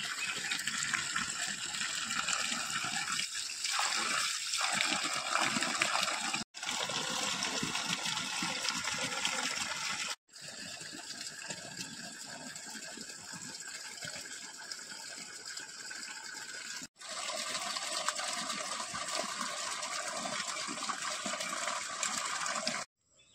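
Running tap water gushes over a village pumpkin being washed in a home kitchen, a steady loud splashing stream broken by a few brief cutoffs.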